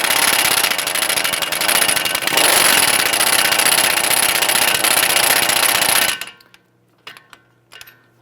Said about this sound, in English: We're going to go ahead and loosen both of our upper strut bolts here.